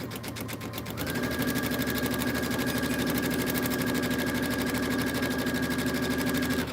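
A sewing machine runs steadily, stitching a pillow seam with a quarter-inch seam allowance along the presser foot's flange guide; the motor starts after a brief pause and then hums loud, close and continuous.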